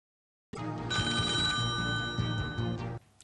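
A telephone rings loudly on a French TV game show, one sustained bright electronic bell tone lasting a couple of seconds before cutting off abruptly.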